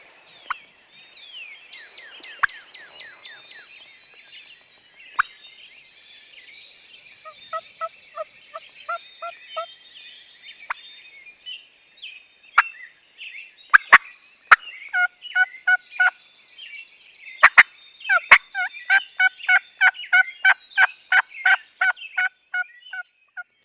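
Wild turkeys gobbling on a cold, wet morning in the woods, several bursts of rapid rattling gobbles from nearby and farther birds, growing denser and louder toward the end with a few sharp clucks between.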